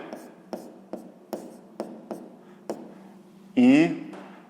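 Pen strokes writing on paper during a sixth-grade geometry lesson, a regular series of short scratchy taps about every half second, close and fairly soft, ending with a brief burst of talk.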